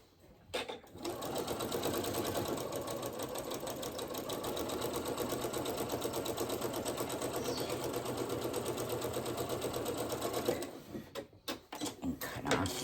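A sewing machine runs steadily for about ten seconds, edge stitching a braided twist placemat about an eighth inch from the edge, then stops with a few soft clicks and handling noises.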